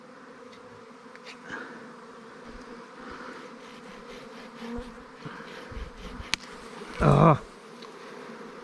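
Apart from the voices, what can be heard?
swarm of bees buzzing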